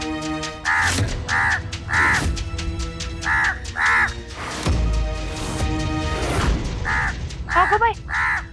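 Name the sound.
crow cawing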